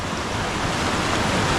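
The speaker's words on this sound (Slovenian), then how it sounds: "Tak super slap," A canyon waterfall roars in a dense, steady rush of falling water, loud and close, with no voices over it.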